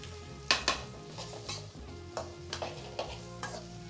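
Chopped onions dropped into hot oil with fennel seeds for egg bhurji, a soft steady sizzle broken by several sharp clinks and scrapes of a spoon stirring against the pan.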